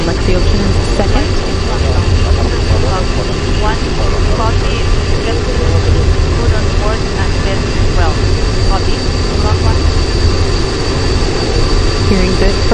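Soyuz MS-10 rocket first stage at launch, four boosters and a single core engine producing a loud, dense, unbroken roar with deep rumble, and a voice talking over it.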